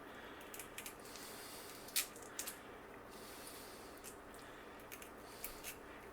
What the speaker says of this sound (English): Cut along that backbone, well, not really a bone, back of the shell, all the way to that area, and then the shell slips right off